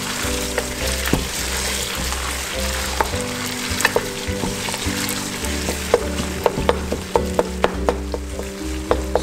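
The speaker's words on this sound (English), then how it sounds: "So I'll just fry it for maybe another 5 minutes." Thick tomato paste sizzling and spitting in a hot pot for jollof rice, with frequent sharp pops and crackles over a steady frying hiss, and no voices.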